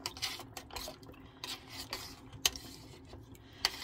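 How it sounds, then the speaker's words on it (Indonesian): A spoon scrapes and rubs around a bowl or pot, mixing a batter with half a spoonful of charcoal powder in a Korean dish, giving soft, uneven strokes and a few sharp clinks. "Aku tambahin ke dalam, lalu diaduk."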